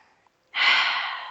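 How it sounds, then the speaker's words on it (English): A deep exhale comes during a yoga breathing exercise, preceded by a faint nasal inhale, then a long, close, breathy release lasting most of a second. "Inhale through the nose. Exhales through the mouth."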